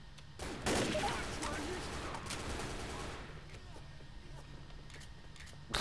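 Gunfire in the video game Left 4 Dead, a dense burst of rapid shots early that tails off into quieter scattered pops, with voices talking faintly under it.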